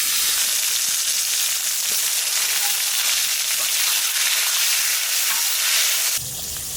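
Hilsa fish frying in a pan gives a loud, continuous crackling sizzle up close for several seconds, then drops abruptly to a quieter hiss near the end, with no speech.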